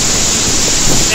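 A strong waterfall at Malham Cove, heard as a loud, steady broadband roar of rushing water filling the short stretch without a break.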